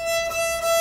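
A thin, faint violin tone bowed too lightly, airy and weak, lasting under a second.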